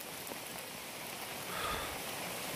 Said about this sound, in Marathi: बाहेर पडायला सुद्धा देत नाही एवढा पाऊस पडतोय